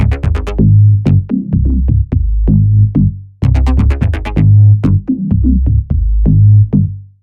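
Minimal tech house bassline programmed in Ableton, a loud, deep rolling bass pattern of short syncopated notes with clicky attacks, playing alone and punchy with no voices over it.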